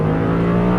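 An Audi R8 on throttle, its engine holding a loud, steady, close-up drone through the short moment with no voices.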